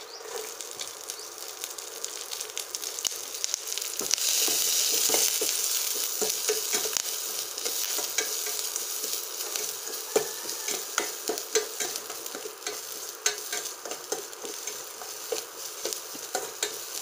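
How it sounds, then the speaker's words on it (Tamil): Green chilli and onion fry in a pan with mustard seeds and curry leaves for a rusk upma tempering, sizzling continuously and steadily up close, with repeated scraping and stirring of the spoon. "பச்சை மிளகாய், வெங்காயம் எல்லாம் போட்டு தாளிச்சிடணும்."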